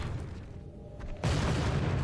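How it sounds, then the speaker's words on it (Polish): A TNT explosion in The Suffering video game goes off as a single sudden loud boom, then a sustained heavy rumble that fills the rest of the moment with no voices over it. "Jak jest napisane TNT, to znaczy, że wybuchnie."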